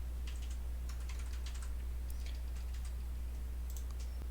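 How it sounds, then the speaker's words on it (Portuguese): Quick bursts of keystrokes tap on a computer keyboard as a postal code is entered, close and crisp, in uneven clusters over a constant low electrical hum, with no voices. "O CEP você vai digitar."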